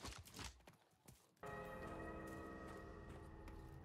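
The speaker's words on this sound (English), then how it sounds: "whoever keeps hitting that gong, I'm I'm gonna get him one day." A gong is struck once in the video game Second Extinction, after some faint scattered noises; its metallic tone then rings and sustains evenly at a low level until the end.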